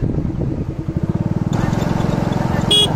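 A motorcycle running at low speed on a ride near Palkir Char sea beach, its engine putting out a steady, pulsing throb that grows louder and rougher in the second half, with a brief higher rattle near the end.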